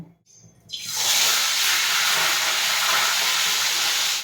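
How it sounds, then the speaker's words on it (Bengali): Tilapia fish dropped into hot mustard oil in a kadai: after a brief quiet moment, a loud, sustained sizzling hiss bursts up and keeps going steadily. "এবার আমি মাছগুলোকে একটা একটা করে ভেজে নেব"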